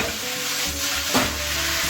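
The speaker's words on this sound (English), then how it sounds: "give us a good stir here. My usual garlic salt. And in goes the tofu." Tofu being stirred into a hot pan of sizzling chayote with red and yellow peppers, a continuous close frying hiss with a brief scrape of the spoon.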